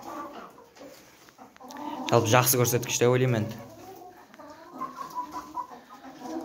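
Chickens in a backyard laying flock of about 37 hens cluck loudly and closely for a couple of seconds. Someone talks over the birds, and softer clucks continue in the background before and after.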